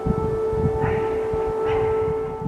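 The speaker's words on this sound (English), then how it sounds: "Air raid sirens sounded in Kyiv after those ceasefire talks." A steady, wailing air raid siren drones in the distance in Kyiv, its tone holding continuously over low background rumble.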